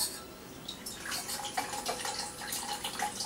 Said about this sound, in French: Et on va mettre du vinaigre rouge